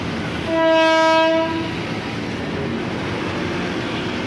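A commuter train at Tanah Abang station sounds a loud two-tone horn for about a second near the start, over steady station rumble and ambient noise that continues after the blast.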